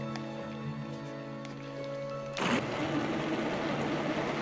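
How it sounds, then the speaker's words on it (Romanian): An immersion blender hums with a steady motor whine, then bites into a pot of garlic cream soup taken off the heat, turning to a louder churning whir as it purees. The sound is close and continuous, with no talk. "Luăm de pe foc și mixăm cu mixerul vertical până obținem o cremă foarte fină"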